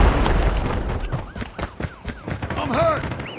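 Gunfire and impact bursts in a Call of Duty hardcore Hardpoint multiplayer match, a rapid run of sharp shots with booms and effects, while radio-style game voices talk over the action.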